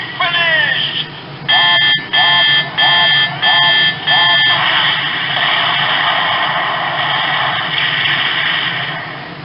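A DX Nebula Steam Gun toy plays its final attack finisher: five loud, bright electronic beeps in quick succession followed by a sustained buzzing, electronic roar. A synthesized voice line comes first.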